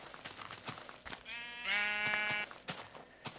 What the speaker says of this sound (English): Another green sheep.